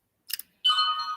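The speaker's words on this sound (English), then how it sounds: "That's my phone." A mobile phone rings indoors, a brief chime burst followed by a sustained, loud tonal ringtone note, close and clear with no talk.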